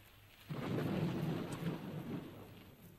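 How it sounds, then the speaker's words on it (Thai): Heavy rain with thunder: a deep rolling thunder rumble swells in after a quiet moment and slowly fades beneath a steady hiss of rain. "ฝนตกหนักอีกแล้ว"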